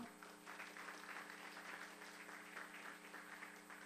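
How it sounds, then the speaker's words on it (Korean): Faint, distant applause from the audience at a 2016 Korean singing contest, greeting a TV station chairman; a continuous soft patter of many hands over a steady electrical hum, with no talking. "큰 박수가 필요합니다"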